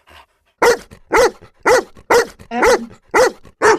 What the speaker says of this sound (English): Our neighbor's dog.